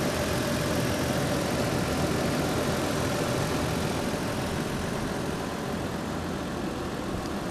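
A 2015 Toyota 4Runner's 4.0-liter V6, paired with a five-speed automatic, idles in a steady, even rumble that holds unchanged and fairly close throughout, with no voices.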